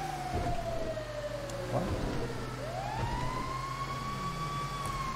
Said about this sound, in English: And a fire engine.